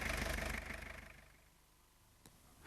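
A VAG diesel engine idles close by just after starting, loud and rumbling for the first half second, then settling into a quieter hum.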